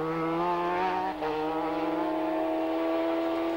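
A racing motorcycle in the 1989 Isle of Man TT Senior Race brakes hard and then powers away, its engine a loud, steady, close-up drone with a brief dip before the throttle opens again.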